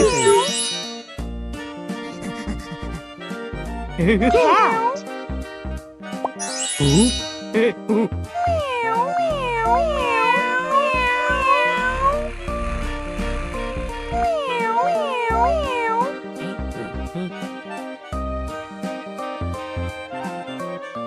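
Cat meowing repeatedly in a small alphabet learning show for toddlers, with clear, sliding, melodic meows over tinkling chimes and bright background music.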